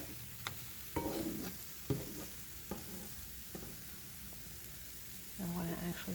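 Pancakes fry in a pan with a steady sizzle while a spatula shifts them around, giving a few sharp scrapes and knocks; a voice talks briefly partway through and near the end.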